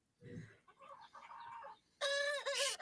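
A hen clucks softly in a few short calls, then breaks into loud, harsh squawking cackles at close range.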